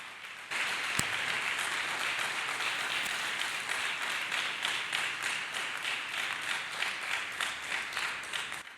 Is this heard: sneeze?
no